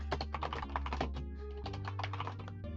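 Rapid keystrokes on a computer keyboard during an online geography quiz, an irregular run of close, crisp clicks that fills the stretch with no talk over it.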